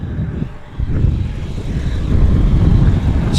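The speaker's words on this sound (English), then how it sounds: "that's the first time I'm noticing any significant usage of the reverse thrust, and to me it sounded a lot like the GE90s." Wide-body jet with GE90 engines lands at Amsterdam Schiphol in a crosswind, a loud roaring rumble of reverse thrust swelling and holding, mixed with wind buffeting, no voices.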